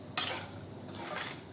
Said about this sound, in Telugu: ఇంకొక 5 minutes ఇలాగ తిప్పితే సరిపోతుంది, వేగిపోతాయి అన్నమాట